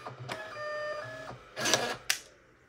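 Label printer turning out QR code labels, a whirring mechanical feed with a steady tone for about a second, then bursts of clattering and a sharp click before it stops.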